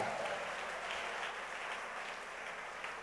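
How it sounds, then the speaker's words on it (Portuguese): A church congregation in Manaus applauds steadily during a Christmas sermon, a dense wash of clapping hands sustained throughout with a faint voice in the background. "dá um aplauso ao Senhor"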